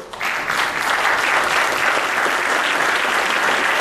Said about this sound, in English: Cheer for Mike.